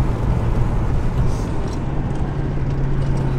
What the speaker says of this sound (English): I know you can hear every piece of wind coming through every crack of crevice.